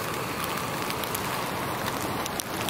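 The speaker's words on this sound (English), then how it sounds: "Still drizzling." Light rain drizzles steadily on a tent in the San Gabriel Mountains along the North Fork River, a soft continuous patter close by with no voices.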